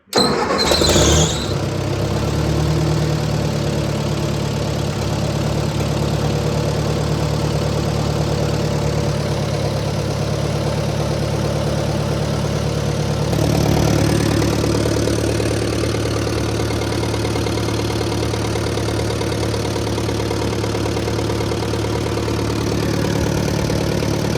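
A Ford half-track tractor engine cranks and catches right away, then settles into a steady, loud, even idle that runs on unbroken, with a slight change in tone partway through.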